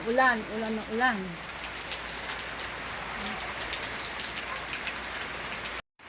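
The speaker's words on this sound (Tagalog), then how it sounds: "Ulan po yan." Steady rain pours down in a dense, even hiss that holds for several seconds, with a brief sing-song voice and a faint chirp rising over it near the start.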